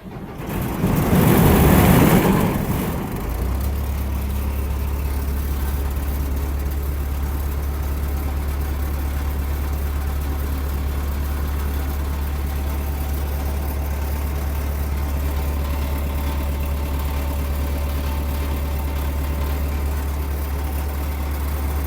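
A combine harvester engine, a German-imported CLAAS Consul or John Deere 942, is started. It cranks and catches with a loud rough burst, then settles into a steady, deep, loud idle that lasts for the rest of the clip, with no voices over it.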